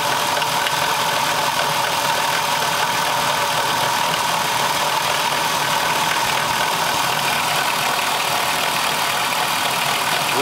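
A Dodge Caravan with the 3.3 engine idles steadily, a continuous hiss-laden engine drone with a thin squeal from the alternator area running through it, constant and close throughout.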